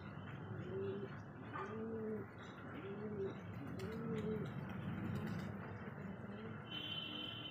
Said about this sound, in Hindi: आज हम आपको अपने कबूतरों की आवाज़ सुनवाएंगे।